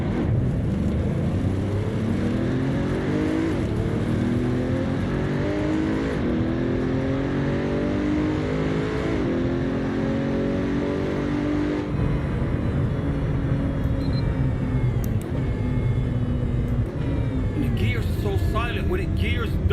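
A hypercar in the Assetto Corsa racing game roars with a loud, continuous engine note, its pitch climbing and dropping through gear changes and downshifts, with a voice faintly present beneath it.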